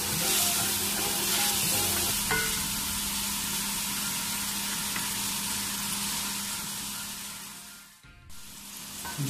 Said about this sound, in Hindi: इनको भी अच्छी तरह फ्राई करूंगा मैं